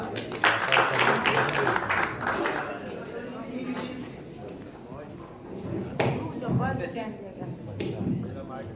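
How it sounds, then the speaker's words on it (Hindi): An audience at an OBC federation gathering claps to welcome a woman professor to the stage. A burst of clapping in the first couple of seconds mixes with voices, and talk continues afterward. "एक बार तालियों से।"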